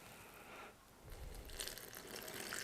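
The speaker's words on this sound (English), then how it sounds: "And then we're going to add 200 grams of water." Room-temperature water, 200 grams, pours into a bowl for a sourdough starter, a steady close splashing gush that swells louder partway through and keeps running to the end.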